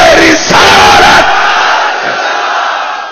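A large religious gathering shouts a slogan back in unison, a loud massed roar of many voices that swells, holds and then fades.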